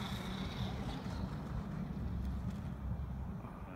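WLtoys 12428 RC car running flat out at full throttle, a steady low motor and drivetrain whir with road rumble, moderately distant and continuous without talk.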